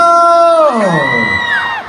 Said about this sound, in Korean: 다시 한번 소리 질러!